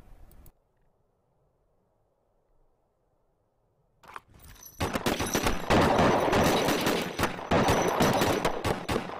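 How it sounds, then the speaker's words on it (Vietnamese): Rapid gunfire from a Vietnamese-dubbed 2022 cowboy martial-arts action film erupts after a few seconds of near silence and becomes a dense, loud, sustained barrage of overlapping shots. "ở đâu ra mà bắn súng nhanh vậy?"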